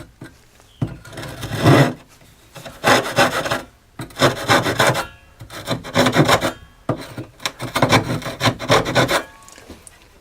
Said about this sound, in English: you get your saw. You make all your cuts.